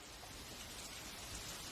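Steady monsoon rain falls in a tropical forest, a dense even hiss of drops on foliage and ground with no breaks, fairly quiet and continuous.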